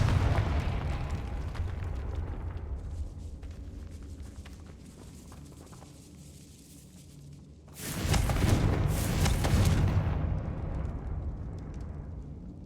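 A Confringo fire spell bursts in Hogwarts Legacy inside a decayed catacomb, a loud broadband blast erupting around the eight-second mark over a dense rumbling game ambience, then decaying into a sustained roar.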